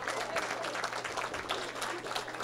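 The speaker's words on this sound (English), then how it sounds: "Give a round of applause for these guys." Applause from a business breakfast audience in a small-town meeting room, a fairly quiet, distant patter of clapping hands that holds steady across the moment.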